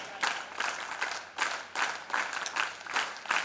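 An audience bursts into brisk, dense applause at a formal gathering, a steady wash of clapping from many hands that holds at moderate loudness for a few seconds.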